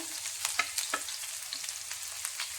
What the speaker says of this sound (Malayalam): വഴറ്റി ഫ്രൈ ആക്കി എടുക്കാം